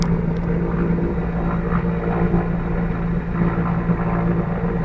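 A firefighting helicopter flies over a forest fire near Minudasht, giving a steady, fairly loud rotor and engine drone that holds unbroken throughout with no voices.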